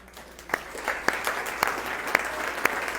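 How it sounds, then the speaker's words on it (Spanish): A small classroom audience claps after a presentation, a scattered loose patter with several sharp individual claps standing out at roughly even intervals, modest in volume and brief. "Ya no los tuve que regañar para que aplaudieran"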